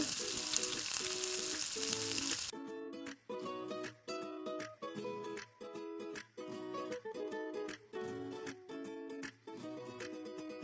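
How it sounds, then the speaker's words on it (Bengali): Onions, dried chillies, garlic and cumin fry in hot oil for chicken khichuri, giving a loud, dense sizzle for the first couple of seconds before rhythmic music takes over and buries it. "এরপর 2টা মাঝারি সাইজের পেঁয়াজ কুচি, 2টা শুকনো মরিচ আর রসুন দিয়ে নিয়েছি। এগুলো আমি হালকা ভেজে নিব।"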